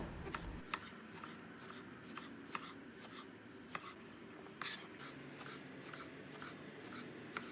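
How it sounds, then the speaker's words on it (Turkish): Quiet knife strokes on a cutting board chopping eggplant into small pieces, a quick irregular series of soft chops and taps, close by with no talking. "Alacalı soyduğum patlıcanları e, küçük küçük doğruyorum."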